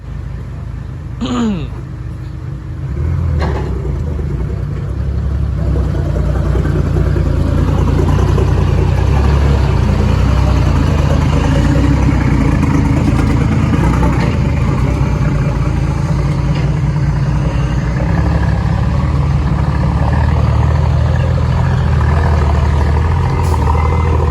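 A Thai dump truck hauling clay, its engine held on the throttle in first gear, drones low and steady throughout the clip, loud and continuous with a brief rising whine near the start.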